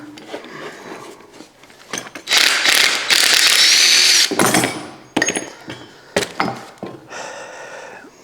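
A crescent wrench works loose a wheel on a rusty 1960s rototiller, producing close metallic clanks and a loud, grinding ratcheting stretch, followed by scattered knocks and scrapes.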